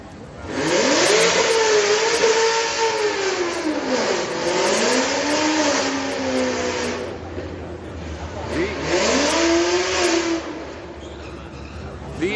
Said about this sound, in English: V8 Camaro in the right, Civic in the left.